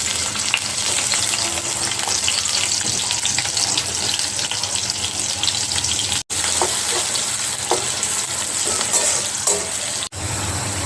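Green chillies and onion fry in a pan for an egg and potato curry, giving a loud, steady, close-up sizzle with a couple of brief breaks.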